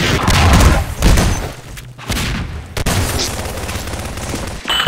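RPG rockets in Half-Life 2 Deathmatch launch and explode in a series of loud, close booms and blasts, with heavy thumps and rushing noise layered in a chaotic firefight.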